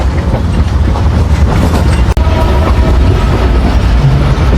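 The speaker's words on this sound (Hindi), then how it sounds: "1 up Khyber mail Rawalpindi station पर पहुंचने वाली है।" Khyber Mail passenger train of Pakistan Railways running toward Rawalpindi station, a loud, close, continuous rumble of wheels and carriages with a brief sharp click partway through.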